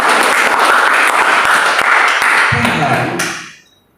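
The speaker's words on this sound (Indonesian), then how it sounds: "Berikan tepuk tangan bagi dia." A church congregation applauds loudly with dense clapping that swells briefly near the end and then quickly fades out.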